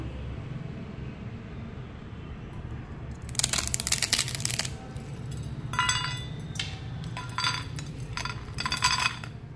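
Crispy moong dal chakli crunched close up in a series of sharp, brittle snaps: one long burst followed by several shorter crunching bursts over a steady low hum, with no talking.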